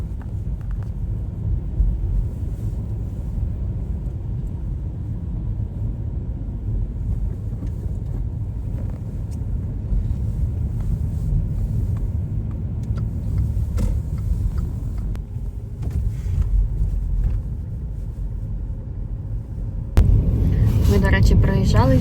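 A car travels along a road in Denmark with a steady low engine and tire rumble throughout, someone speaking faintly over it, and a louder bump of noise near the end.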